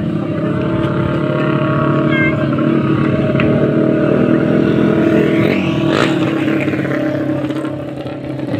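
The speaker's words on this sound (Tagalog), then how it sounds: "Lakas na mga motor dito guys." Motorcycles rev loudly and continuously at an outdoor drag race in Mangatarem, Pangasinan, a dense roar of engines that swells with a rising whine near the end.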